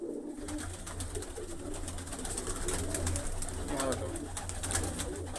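Pigeons coo softly in a loft, low rhythmic throaty calls repeating throughout amid rustling and scattered clicks, fairly quiet and close.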